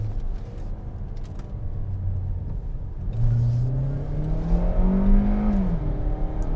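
A 2020 Hyundai Kona SEL Plus engine revs up, its pitch climbing steadily, then dropping briefly as the automatic transmission upshifts before pulling again.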